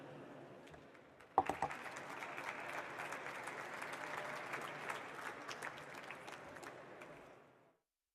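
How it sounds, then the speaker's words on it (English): An audience at a live stage session of an auto dealers' trade show bursts into applause after a talk, a dense wash of clapping that starts abruptly, holds steady for several seconds, then fades out. "once again, let's give Glenn a round of applause."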